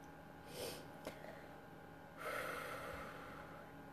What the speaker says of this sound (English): Let me just take a few breaths here.